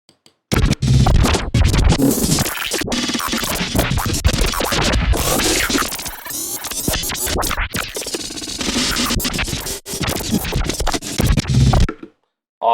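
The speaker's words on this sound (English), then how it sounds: "So that's some pretty basic glitch right there." Dense, harsh digital glitching with stuttering, choppy bursts and abrupt cuts, loud and continuous for about eleven seconds before stopping.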